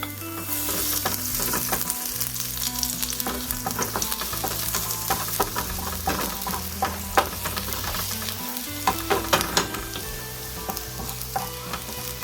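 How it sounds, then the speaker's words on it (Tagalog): Garlic browns in a pan with a lively close sizzle, crackling and popping throughout while a utensil clinks and scrapes in an irregular rhythm. "ibabrown ko na ng bahagya yung garlic natin"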